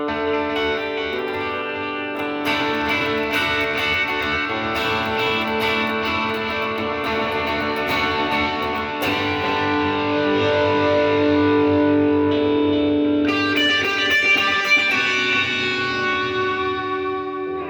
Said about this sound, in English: you can just go all the way back just to using it as a bog standard delay.